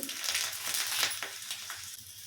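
Garlic dropped into hot oil with mustard seeds, crackling and sizzling steadily and close by for a Kannada drumstick dal sambar tempering, with sharp pops scattered through the frying hiss.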